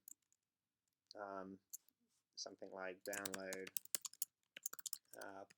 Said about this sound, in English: I can change this text by clicking it and typing